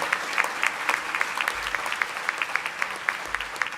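A veterinary hooding ceremony audience claps in sparse, steady applause, fairly soft and even, with no talking over it.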